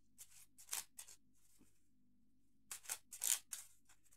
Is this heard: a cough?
no